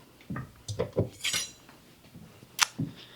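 A kitchen knife picked up while preparing onion for kebabs gives a few light metallic clinks and clatters, close and fairly quiet, with one sharp brighter clink near the end.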